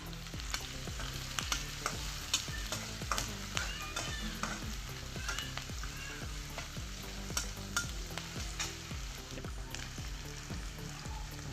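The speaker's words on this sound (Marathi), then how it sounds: "कांद्याला थोडा गोल्डन कलर येईपर्यंत भाजायचा आहे" Onion frying in a pan until golden, with a steady crackling sizzle and a spoon or spatula stirring and scraping the pan in regular strokes, heard alone and close.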